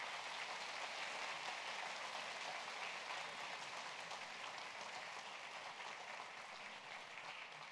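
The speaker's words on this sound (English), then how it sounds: "Let's give these kids a round of applause." A church congregation at a morning service gives a steady round of applause for a group of children, a dense, even wash of clapping with no break that eases off slightly toward the end.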